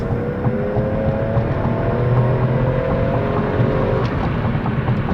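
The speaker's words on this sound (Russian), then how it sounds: "мы едем 40 км в час, я нажимаю газ-пол" A Toyota Mark II Tourer V turbo, 110-series Grande iR-V, pulls hard at full throttle from about 40 km/h, its engine note a loud, steady drone rising gradually in pitch from inside the cabin.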